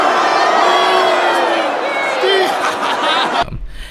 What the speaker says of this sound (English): everyone boo those people twice as loud